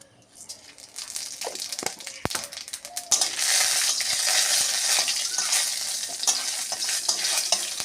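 Dry red chillies and panch phoron spices are tempered in a hot kadai for Bengali dal with pumpkin stems. Light stirring and scraping come first, then a loud, steady oil sizzle takes over and holds to the end.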